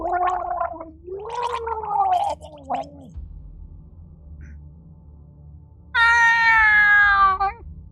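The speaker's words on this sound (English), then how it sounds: "the sad underwater meows and such" Warbling, gargled cat meows from a video game character drowning underwater rise and fall in a few drawn-out calls, followed after a pause by a louder, higher, buzzy wail.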